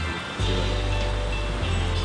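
Heavy monsoon rain and floodwater of the Utavali river in Botad roar as a steady, dense wash of rushing water, loud and continuous, with a low rumble underneath and no voices.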